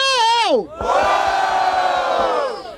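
A rap battle crowd at the Batalha da Aldeia in Barueri, São Paulo, erupts in loud massed shouting. A brief rising call comes first, then a sustained roar from many voices that holds for about two seconds.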